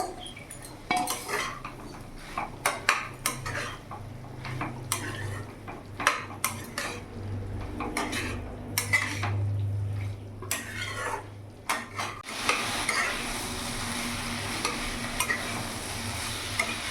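Fried bitter gourd and eggplant stirred in a pan with mustard-poppy paste: repeated scraping clinks of a spatula against metal over a low sizzle, close, with a steadier frying hiss toward the end.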